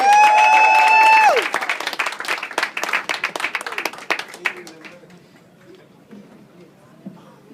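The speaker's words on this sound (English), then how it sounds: "Give him a big round of applause for Bill Russ," Comedy club audience applauding for comedian Bill Russ, a burst of clapping that starts loud after a few sung or shouted notes, then thins out and fades to scattered claps and quiet.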